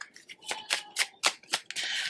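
Tarot cards shuffled by hand in a run of crisp riffling bursts, about five sharp ruffles, then a steadier continuous shuffle at the end, close and fairly quiet.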